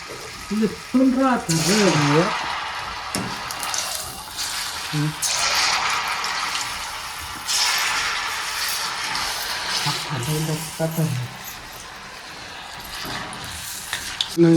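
Batter frying in hot oil in a Maharashtra village kitchen, a steady sizzle with swells of bubbling as pieces are added and stirred, while someone talks over it at intervals.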